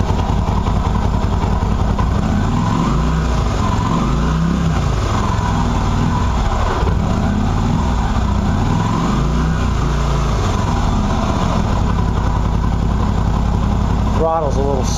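Qlink QBK 250 twin-cylinder motorcycle revving after sitting unused, with a loud steady idle and several rising throttle blips, recorded close up, with a brief sharp high sound near the end.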